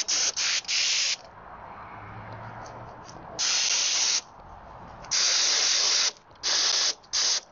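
A Central Pneumatics 4 oz adjustable detail paint gun sprays in short bursts of loud hissing air and paint, separated by brief quiet pauses, close and alone.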